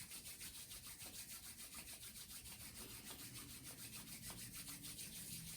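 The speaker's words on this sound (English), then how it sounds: "So go ahead and rub your palms together in front of your chest, in front of your heart center." Palms rubbed together in front of the chest, a faint, steady, dry swishing friction that carries on without a break in a quiet room.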